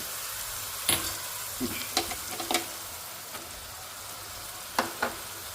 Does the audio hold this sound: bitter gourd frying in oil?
yes